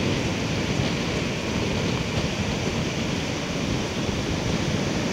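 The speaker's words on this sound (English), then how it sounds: "But the wind is so strong." Strong, cold wind roars across the microphone on The Hague beach, blending with constant surf into a loud, unbroken wash of noise with no pauses and no voices.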